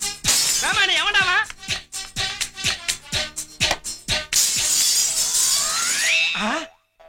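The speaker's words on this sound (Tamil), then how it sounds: "தங்க மாதிரி இந்த ஜன்னல் உடைஞ்சிடுச்சே" Window glass shatters in a comedy scene: a string of sharp crashes and knocks, then a long bright burst of breaking, tinkling glass, mixed with voices and cartoonish effects before a sudden cutoff.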